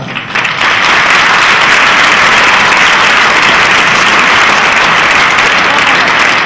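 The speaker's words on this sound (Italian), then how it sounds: "permettetemi di tutti insieme fare un applauso qui all'orchestra" A theatre audience gives loud, sustained applause to the orchestra at a Neapolitan variety show, a dense, steady wash of clapping that swells within the first half second and holds without a break.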